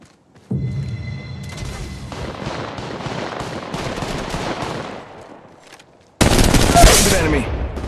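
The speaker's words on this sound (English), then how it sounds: "Getting shot at. Shots fired at me." Sustained gunfire in the Apex Legends Mobile video game, a dense rattling fusillade of rapid shots that runs for several seconds, then a sudden louder, closer burst near the end.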